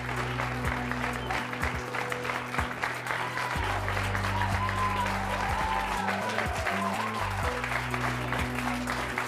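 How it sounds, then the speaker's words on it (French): A French TV studio audience applauds three nuns, a dense, even clapping that fills the room for several seconds, with sustained music or tones under the applause. "je vous demande d'accueillir et d'applaudir très chaleureusement nos trois premières invitées"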